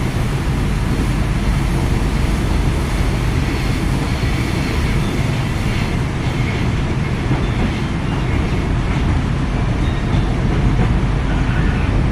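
An INKA iE305 KRL electric commuter train runs steadily, a continuous loud rumble of wheels and rails with broad hiss throughout, no voices over it.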